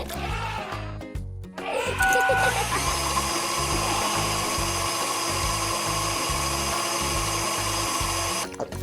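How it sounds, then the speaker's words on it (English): A blender grinds peeled bananas with a loud, steady whir that starts after a short rattle and runs to the end. "put it in the blender."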